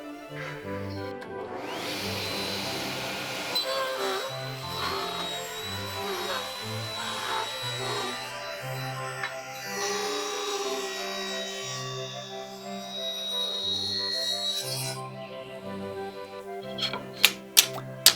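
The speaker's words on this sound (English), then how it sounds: "rip this down into 1/8 inch strips using my strip rip guide that I built for Halma" Table saw ripping walnut into 1/8 inch strips against a shop-built strip rip guide, a steady loud whine with repeated cutting passes and a few sharp clacks at the end.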